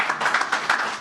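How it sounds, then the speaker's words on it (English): An audience at a press conference in a convention center claps in a short, loud burst of uneven applause with individual hand claps poking through, lasting about a second with no speech over it. "Let's give another round of applause to that."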